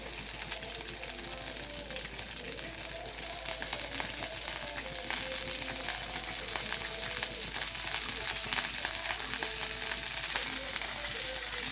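Hot oil sizzles and crackles in a pan while eggplant stir-fry is being cooked, a continuous dense frying hiss that holds steady and close throughout, with faint voices in the background.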